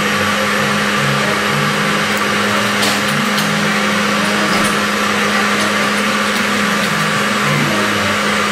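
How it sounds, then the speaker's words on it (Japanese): A steady motorized whir runs continuously at constant volume, a blender grinding pear without pause and with no talking. "この梨をこちらのブレンダーの中に入れていきます。"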